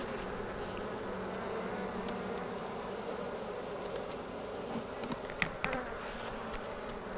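Honey bees buzz steadily around an open hive during a fall inspection, a dense continuous hum close by with a few sharper individual bee passes near the end.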